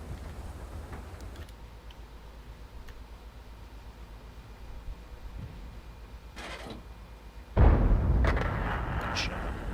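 A T77 tank's main gun fires a single deep, booming shot in a tank video game, erupting suddenly after quiet engine rumble and ringing out into a lingering roar.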